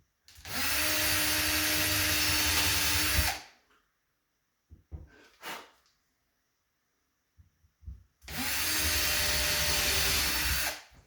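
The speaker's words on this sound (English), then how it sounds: "I want to be able to drill through without creating a big chunk out of the wood." Power drill boring through wood for cabinet hardware with a center-punch bit, two loud steady runs of whirring motor separated by a pause with brief handling knocks.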